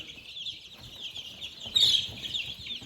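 Young chickens and ducks in a brooder chirp and peep continuously in a high, busy chorus, moderately near and fairly soft, with one louder burst of calls partway through.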